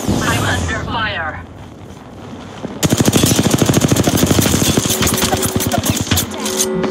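Rapid automatic gunfire in Apex Legends arena mode, a loud close burst of evenly spaced shots lasting several seconds after a quieter stretch of game noise and voice lines.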